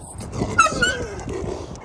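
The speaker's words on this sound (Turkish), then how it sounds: "köpekler rahat bırakmadı beni ya buraya" Dogs on the Uludağ summit bark and growl in short, rough bursts at moderate distance, mixed with wind and background noise through the whole stretch.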